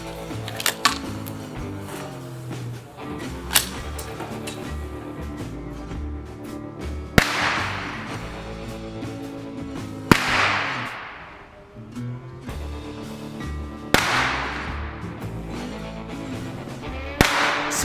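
Five sharp, loud reports spaced a few seconds apart from a CMMG Bravo AR-style .22LR conversion firing copper-plated hollow points, each one a crisp crack with a brief decay, over low background noise.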